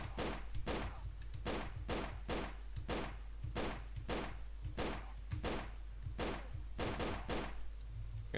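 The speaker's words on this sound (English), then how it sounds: "An efficient pistol." Pistol gunfire in Tomb Raider: The Angel of Darkness: about fifteen sharp, fairly evenly spaced shots ring out over a steady low rumble, with no voices.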